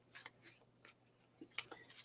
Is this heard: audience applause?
no